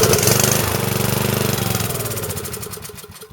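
An 8 hp Briggs & Stratton small engine runs poorly, its steady mid-pitched chugging loud and close at first, then gradually weakening and fading as it struggles to keep going.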